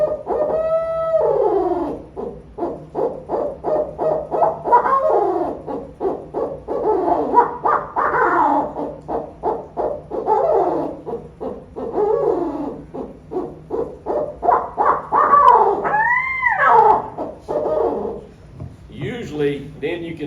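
A voice imitates the barred owl's laughing call, a long run of rhythmic hooting and cackling notes rising and falling in bursts, loud and close, with a final wavering flourish.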